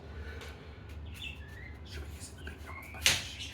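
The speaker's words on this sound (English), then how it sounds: "The birds aren't stressed." Birds chirp faintly outdoors on a mild day, with a few thin, brief tweets scattered over low background rumble and one sharper, louder chirp near the end.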